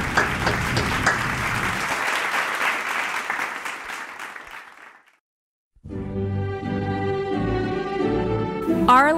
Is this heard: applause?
yes